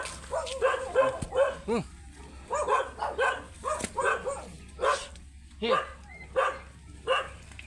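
A dog barks repeatedly in short bursts at people digging cassava, fairly close, interspersed with people talking.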